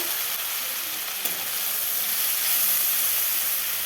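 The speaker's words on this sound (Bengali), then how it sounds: "তেলটা একটু ভাজা হতে থাক।" Fish oil with onions sizzling in a pan, a steady close hiss of frying that holds throughout with a faint tap partway through, no voices.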